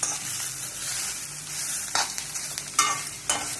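Moringa (drumstick) leaves cooking in a hot iron kadhai with the gas turned off, giving a soft steady sizzle with occasional brief stirring scrapes and clinks, close and unaccompanied by talk.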